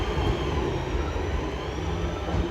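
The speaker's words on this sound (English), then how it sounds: "another train is zooming past" A passing train at Newton-le-Willows rushes by as a steady, loud broadband roar with low rumble, continuous and close throughout.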